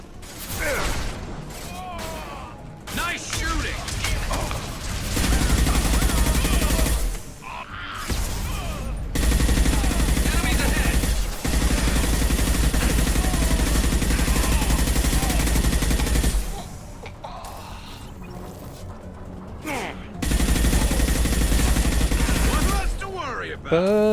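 Gunfire rattles in the sci-fi shooter Mass Effect: Legendary Edition, loud sustained bursts of automatic weapon fire broken by short pauses, with mechanical clicks and reloading sounds in the gaps.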